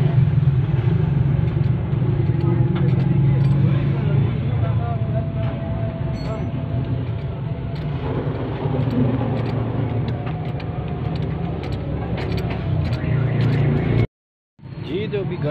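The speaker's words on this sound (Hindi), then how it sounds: "अभी गाड़ी की ट्राई ली है जी, गाड़ी उसी तरह आवाज़ कर रही है और आगे से ज़्यादा आवाज़ कर रही है" An auto rickshaw with a faulty, broken bearing runs on a test drive, its engine a continuous close rumbling drone with rattly mechanical noise throughout and a brief dropout near the end, alongside faint voices.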